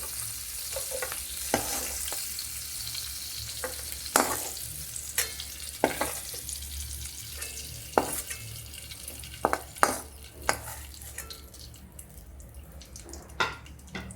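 Capsicum stir-frying in a pan for paneer do pyaza, a steady oily sizzle broken by scattered spatula scrapes and taps against the pan, close up with no talking.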